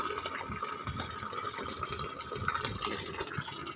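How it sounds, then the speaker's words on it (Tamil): Water poured over freshly planted peanut seeds in soil gives a soft, close trickling and splashing that stays steady with small uneven bursts, fairly quiet and without talk. "அதனால நம்ம தண்ணி ஊற்றலாம் வாங்க."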